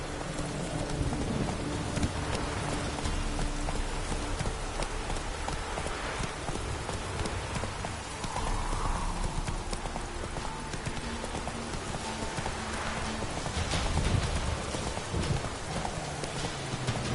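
Roach the horse's hooves clip-clop through The Witcher 3, a steady rhythm under heavy rain with rumbling thunder filling the scene, no voices present.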